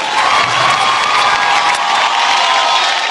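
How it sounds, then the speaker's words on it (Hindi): A large award show audience cheers and applauds loudly, a steady, dense roar of clapping and shouting that holds at full strength throughout. "जोरदार तालियां फॉर स्टार गिल्ड अवार्ड।"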